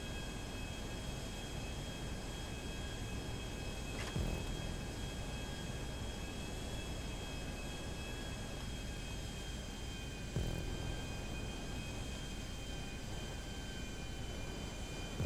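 A jet aircraft engine in the video game GTA during an online race, giving a steady, loud, continuous roar with a high whine and two brief thumps.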